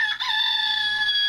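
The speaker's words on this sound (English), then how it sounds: "That's a rooster" A single rooster crow rings out loud and close, one sustained strained call lasting just over a second, with no talking.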